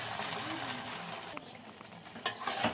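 A cauliflower pakora mixture with cornflour is stirred, a soft moist shuffling and scraping with faint sizzle-like hiss, ending in a couple of sharper clinks from the bowl.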